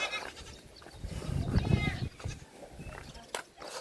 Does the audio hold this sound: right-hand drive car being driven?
no